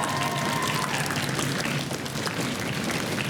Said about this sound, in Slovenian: En aplavz za obe ekipi.